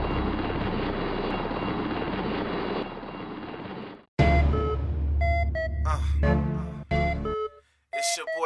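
Loud helicopter rotor whirring holds for about four seconds, then cuts to heavy engine roar with rising tones and abrupt breaks.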